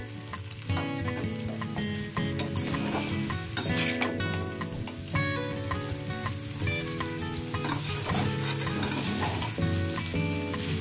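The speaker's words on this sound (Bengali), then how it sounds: "সব কিছু দেওয়া হয়ে গেছে, ভালো করে নাড়িয়ে নেবো।" Vegetables for veg chowmein, with spring onion greens, stirred and tossed in a hot sizzling pan, with steady frying crackle and repeated scraping and clinking of the spatula against the metal.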